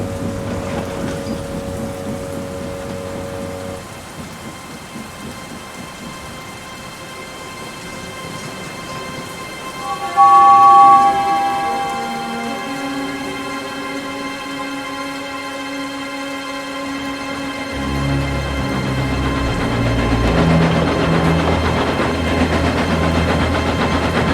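Cartoon storm effects of heavy rain and rumbling thunder roar under dramatic orchestral music, swelling louder toward the end, with a sharp crack near the middle.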